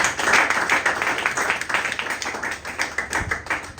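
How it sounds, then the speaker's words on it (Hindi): An audience at a training session claps loudly and continuously, the claps fairly distinct and slightly uneven, forming a rhythmic patter that swells and dips throughout. "मैं चाहूंगा कि एक बार आप तमाम लोगों के लिए जोरदार तालियां एक बार बजाएं।"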